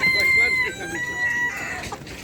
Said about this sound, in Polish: Koguty, kury